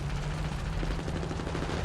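Sustained video game gunfire from Army of Two, a dense continuous rattle of rapid shots at steady loudness with no pauses.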